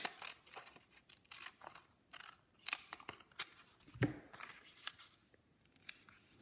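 Scissors snip along a paper edge for a collage, a quiet close series of short crisp cuts in irregular rhythm with soft paper rustling between them.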